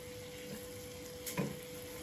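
Melting sugar for caramel is stirred in a pan, a faint steady bubbling sizzle with one brief scrape of the utensil near the end, heard close and quietly without speech.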